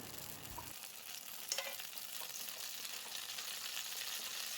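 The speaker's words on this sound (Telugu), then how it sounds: "అదే కడాయిలో ఇప్పుడు 1 స్పూన్ ఆయిల్ వేసుకొని ఒక బిర్యానీ ఆకు, దాల్చిన చెక్కని చీరి వేసుకుందాం." A bay leaf and a piece of cinnamon fry in a spoonful of oil in a kadai, giving a faint, even sizzle with a brief clink near the start.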